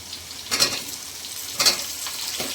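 Tomatoes fry in a pan, giving a steady soft sizzle with two sharper bursts of crackling as the pieces are stirred, close and fairly quiet.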